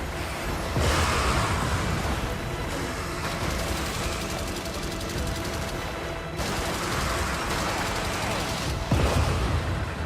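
Artillery barrage and gunfire rage in the Helldivers video game: a loud, continuous roar of explosions and rattling shots with dense overlapping bursts, with a voice talking over the din.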